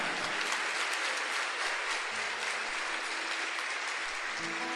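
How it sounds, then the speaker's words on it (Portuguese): Congregation applause during a church homily, a steady wash of clapping hands that fills the space evenly throughout, fairly distant and even in level, with no voices on top. "Dê uma salva de palmas para Ele."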